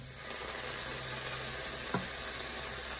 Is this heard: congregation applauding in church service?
no